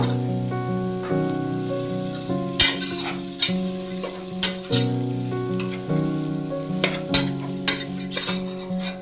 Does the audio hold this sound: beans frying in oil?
yes